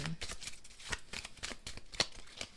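Tarot cards are shuffled close by in quick, rhythmic riffling flutters, a dense run of soft papery slaps and snaps over a couple of seconds.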